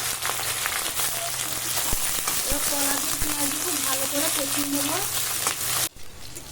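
Green banana pieces frying on top of fried onions in a pan, a steady close sizzle running throughout under a person talking, ending abruptly near the finish.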